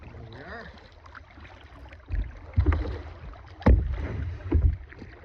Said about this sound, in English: We're gonna get paddling around and see some of the sights.